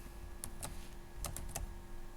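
Keystrokes on a computer keyboard: a few scattered, distinct clicks at an irregular pace, close by and fairly quiet against a low steady hum, with no talking.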